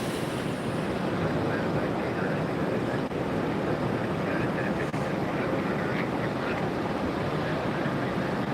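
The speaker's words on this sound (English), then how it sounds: "Breeze got clearance now for takeoff." A Breeze Airways jet taking off at Tampa airport, a steady broad roar of engine and rushing air held at a constant level for the whole stretch, fairly distant and unbroken, with no talk over it.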